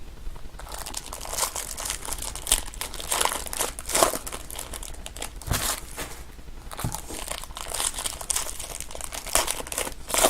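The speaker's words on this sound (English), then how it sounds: "These packs don't want to open." Foil wrappers on 2018 Bowman Draft Jumbo baseball card packs being torn and crinkled open, a continuous close, loud crackling with sharp rips and crumples.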